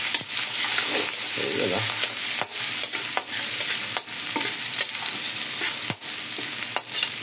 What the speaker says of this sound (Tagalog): Unahin natin mag-adobo o mag-gisa ng bawang